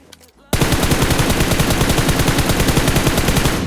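Rapid automatic gunfire from a scoped gun in PUBG Mobile, a loud sustained burst of evenly spaced shots starting abruptly after a brief quiet moment.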